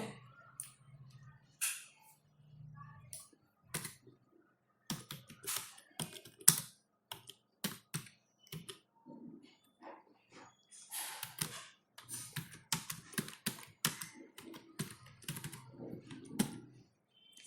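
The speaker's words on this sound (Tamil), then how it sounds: "என்னோட பேர் டைப் பண்ணிக்கிறேன்" Computer keyboard typing while entering a name for a first Python program, with bursts of clicky keystrokes of varying density, close and fairly loud, alternating with stretches of someone talking.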